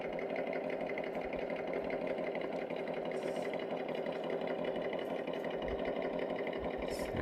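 Axial Rubicon RC crawler's electric motor whining steadily as the truck drives and descends over rough terrain, a continuous close mechanical buzz with no talk.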